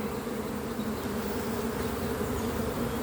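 Honeybees swarming at an open beehive on a spring inspection, a dense, steady, close buzz that holds evenly throughout with no one talking.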